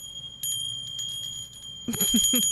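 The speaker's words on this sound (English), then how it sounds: "that's pretty good for a little handheld bell" A small handheld bell rings close and fairly loud in a series of quick bright jingles, followed by a brief burst of louder ringing with a sustained high tone.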